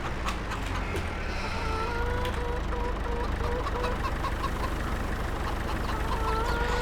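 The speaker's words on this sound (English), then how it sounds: "excuse me hens, I bring food for you." Farm hens cluck over a steady engine hum and low rumble. Short repeated clucks sit under a person talking nearby.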